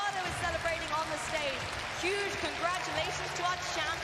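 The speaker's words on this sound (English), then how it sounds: "The crowd is going wild." A crowd at the Pokémon VGC world championship cheers and applauds a winning champion, a dense roar of clapping and shouts with whistles, while a commentator talks over it.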